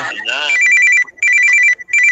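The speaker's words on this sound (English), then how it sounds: "No, that's somebody's phone." A mobile phone rings loud and close in repeated electronic tone bursts with short gaps, after a brief stretch of a voice at the start.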